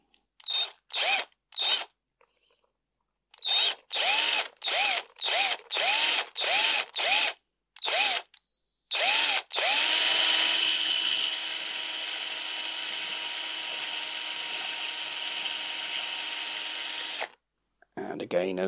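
A power drill bores a hole into a mini glider's center section and wing for a tube, running in repeated short bursts and then one long sustained whir, loud and close, with no talk.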